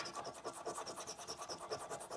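Coins or a fingernail scrape a National Lottery scratch card in quick rhythmic rubbing strokes, faint and close, with no speech.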